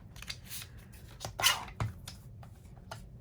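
Scissors snipping through a paper junk mail envelope, with several short crisp cutting strokes and rustling paper, close up and alone.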